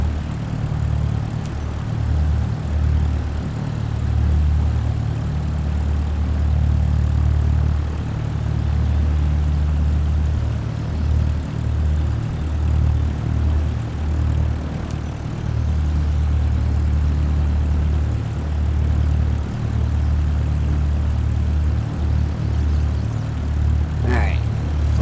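Steady, loud drone of a propeller airplane engine in Microsoft Flight Simulator, holding an even tone for the whole stretch with no talk over it.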